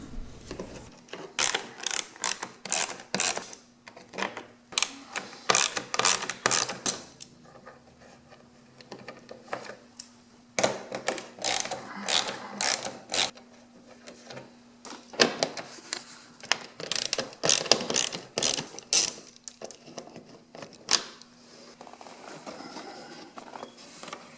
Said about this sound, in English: I'm going to get started by taking out these 2 thumb screws in the front, followed by the rest of the 8mm screws.